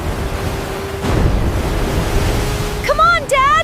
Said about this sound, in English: the water is coming faster